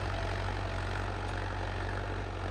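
A tractor running in four-wheel drive pulls a cultivator through a field, giving a steady, unbroken low engine drone of moderate loudness with no talk.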